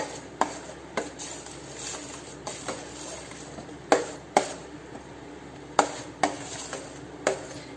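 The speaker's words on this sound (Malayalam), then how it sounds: "നന്നായിട്ട് നമുക്ക് ഇളക്കി കൊടുക്കാം." A spoon knocks and scrapes inside a pot of mashed banana for pazham pradhaman, giving irregular sharp clinks spread over a soft background, with no talking.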